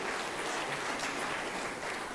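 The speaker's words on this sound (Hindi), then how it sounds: "आजीविका मिशन की बहनों का तालियां बजा के स्वागत करें" An audience at a public event applauds in a continuous, fairly faint wash of clapping heard from some distance, with no break.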